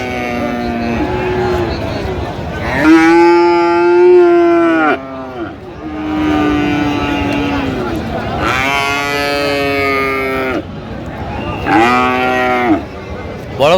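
Cattle at a livestock market selling Friesian and crossbred bull calves, with several long, loud moos in sequence, some near and some overlapping, over a busy murmur of people talking.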